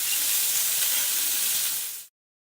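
Bacon sizzling and crackling in a pan of corn oil, a steady, close, dense frying hiss that runs without pause and then cuts off abruptly near the end.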